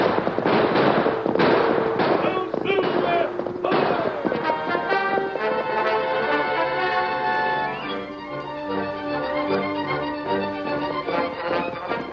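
Gunfire sound effects in an old-time western radio drama, a dense volley of sharp cracking shots in the first few seconds, then fading as orchestral music takes over.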